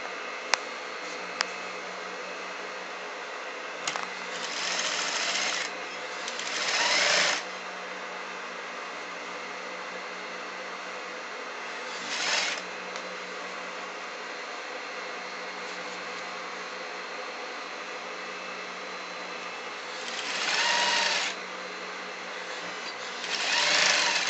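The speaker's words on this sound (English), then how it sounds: "And I'm going to stitch the edges." A sewing machine stitches the edges of a besom pocket facing, a steady close mechanical whir running continuously, with a few brief louder surges of faster stitching and small handling clicks.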